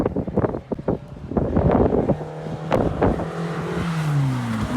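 A 1965 MG Midget driven at full power around the Goodwood Motor Circuit, its engine drone steady and loud under heavy wind buffeting, with the pitch climbing and then sliding down as it runs on toward the start-finish line.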